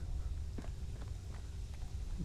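A few soft, uneven footsteps of a ghoul in Fallout 4, faint thuds spaced apart against a low ambient drone.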